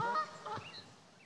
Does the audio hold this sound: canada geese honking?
yes